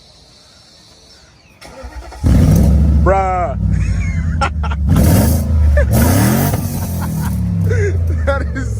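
A BMW 7 Series with a modified muffler starts and revs loudly, a deep rumbling exhaust roaring up and down close by, with people talking over it.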